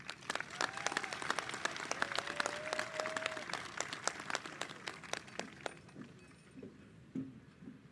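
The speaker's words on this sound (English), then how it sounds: "Please give them a round of applause." A crowd at a high school graduation ceremony applauds the faculty and staff with steady, fairly distant clapping that thins out toward the end, a few faint voices underneath.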